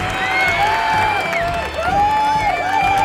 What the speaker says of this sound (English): You can see all the members of the crew chiefs cheering for all these marbles